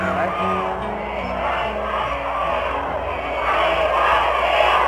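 A crowd of about 3,000 Beatles fans in Miami chants and screams in unison, a dense, continuous roar heard from some distance that swells louder toward the end.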